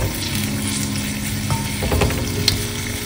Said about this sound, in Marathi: तर या लसणाच्या पाकळ्या पूर्ण ब्राऊन होईपर्यंत तळायच्या आहेत आपल्याला